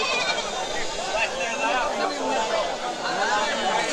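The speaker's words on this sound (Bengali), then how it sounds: "এই দেখেন দেশি জাতের ছাগল।" Native-breed goats bleat repeatedly at a busy rural goat market in Chatmohar, Pabna, their wavering calls mixed with loud crowd chatter and nearby voices.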